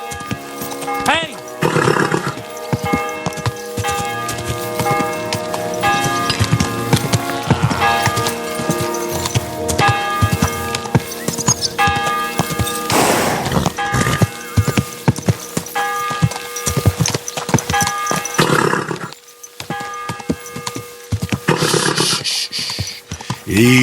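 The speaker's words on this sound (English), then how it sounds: "Easy, good horse." A horse's hooves clip-clop in the video game Kingdom Come: Deliverance II, a steady rhythmic gait with occasional snorts and whinnies beneath orchestral music and someone speaking.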